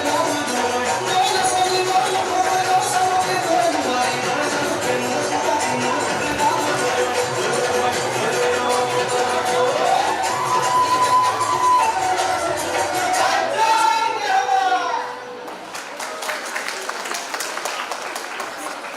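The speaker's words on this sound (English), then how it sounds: "Please give them a round of applause." An audience at a nursing conference gives students a long, dense round of applause after their performance, steady and loud for about fifteen seconds before thinning out as a voice speaks over the dying claps.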